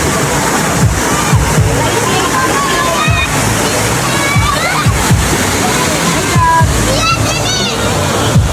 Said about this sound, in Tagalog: Ilog na may kaunting tao.